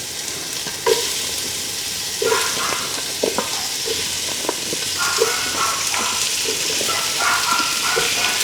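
Squash (kalabasa) sautéing in a pan for pinakbet, a steady close sizzle with repeated scrape-and-stir clinks from the utensil throughout, no talking.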